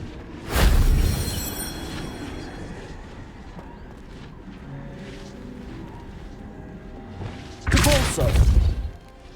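Confringo spell blasts in Hogwarts Legacy, two loud booming bursts, one early and one near the end, each with a heavy low thud and crackling tail, separated by quieter ambient game sound.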